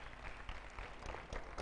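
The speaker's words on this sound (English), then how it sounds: "Clap for the Lord." A church congregation clapping during a service, a short, faint patter of many hands at a steady pace from across the room, with no speech over it.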